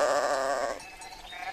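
A sheep bleats in a mountain meadow in the Cerdanya valley, one fairly clear quavering call that fades into soft open-air background.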